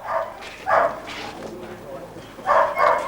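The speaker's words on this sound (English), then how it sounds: "These dogs are greyhounds, and greyhound racing is very popular in England." Greyhounds gathered before a race in England bark in loud, close bursts, two early and a double bark near the end, over a noisy outdoor background.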